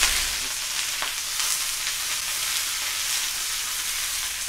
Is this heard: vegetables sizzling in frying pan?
yes